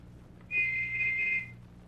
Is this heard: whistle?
yes